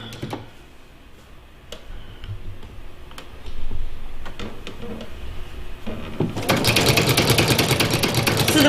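Sewing machine running a zigzag stitch along the edge of cross-stitch fabric, a steady mechanical whir and rapid ticking that grows louder and busier toward the end, close by with no voices.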